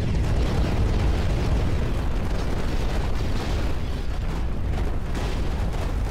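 A futuristic Viking-style ship fires a cannon broadside in a destruction video game, a dense, continuous roaring barrage of booming blasts that fills the whole stretch, loud and unbroken.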